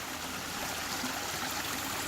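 A small constructed garden stream flows over a shallow bed, making a soft, steady trickling wash that stays even and fairly quiet throughout, with no voices.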